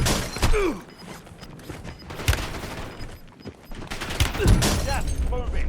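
Gunfire in the Warzone battle royale game: bursts of shots and a flurry of sharp reports over busy game ambience and mechanical clatter, with a voice briefly speaking.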